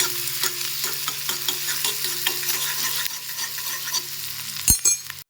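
Steady sizzling of onions frying in a pan, stirred with a spoon until browned, with repeated close-up scraping strokes; a sharp clank near the end.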